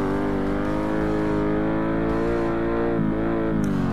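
A Plymouth Cuda Hemi engine in the Forza Motorsport racing game drones steadily, close and loud. It holds a dense, slightly distorted, compressed tone with a brief dip in pitch near the end and no talk.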